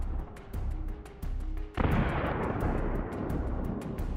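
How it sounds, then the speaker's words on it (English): A Russian infantry fighting vehicle, hit by Bradley fire, bursts into a sudden loud explosion that becomes a sustained, roaring rush of fire and debris, after a few quieter tones. "the Russian IFV caught fire and soon exploded"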